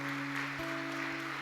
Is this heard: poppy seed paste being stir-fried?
no